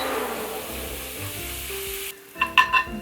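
Garlic fries in hot oil with a dense, steady sizzle. The frying sound drops away abruptly and is followed by a few sharp metallic clinks and scrapes close by.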